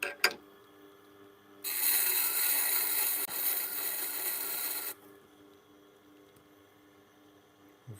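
A chef knife is ground against a sharpening stone to take the shoulder down, a steady close rasping scrape lasting a few seconds with a faint click before and quiet after.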